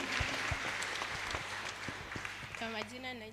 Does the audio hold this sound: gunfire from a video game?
no